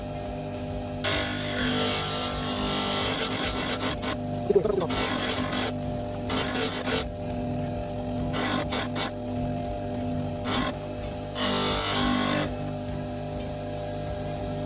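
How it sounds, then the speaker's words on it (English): Grindstone sharpening an old chisel, with a steady rasping grind that swells and fades in several bursts as the blade is pressed to the wheel and lifted away, over a constant low motor hum. "as the grindstone gets near to the tip of the chisel, be very careful not to press on them"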